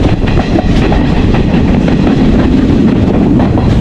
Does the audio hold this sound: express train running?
yes